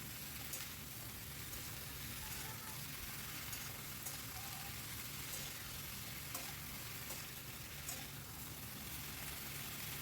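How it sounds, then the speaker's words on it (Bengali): Cauliflower frying in oil in a pan, seasoned with salt and turmeric, producing a steady, even sizzle that holds without a break throughout, fairly soft and with no talking. "এবার কপিটাকেও একটু লাল করে ভেজে নিতে হবে"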